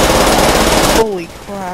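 Sustained automatic STG-44 fire in Call of Duty: World at War zombies mode, a dense loud burst of rapid shots lasting about a second before cutting off, followed by faint voices and game sounds.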